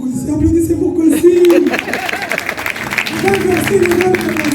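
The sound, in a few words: audience applauding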